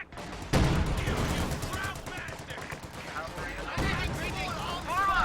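Anti-tank guns blast away at paratroopers in a Company of Heroes 2 2v2 match, a sharp shot opening a stretch of repeated firing and rumbling battle noise. A commentator speaks throughout.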